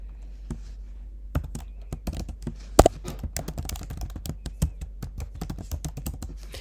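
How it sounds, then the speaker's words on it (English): Fingers type an email address on a computer keyboard, a close run of quick, irregular key clicks with a few louder strikes and short pauses between bursts. "type in my email address"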